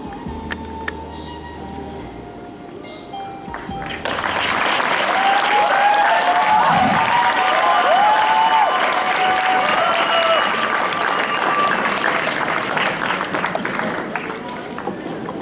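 Audience applause for a school play breaks out after a spoken recitation, a dense sustained roar of clapping with cheers that rises abruptly and holds steady, while a voice talks over it at the start.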